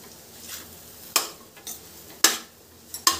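A spoon scrapes and knocks against a pan while spiced potato stuffing is mixed, with a few sharp metallic clinks over a soft background sizzle, fairly close and with no talking.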